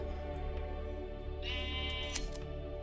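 A Sheepuff, a woolly sheep creature from the Minecraft Aether mod, gives a single nasal bleat over steady game background music and ambience.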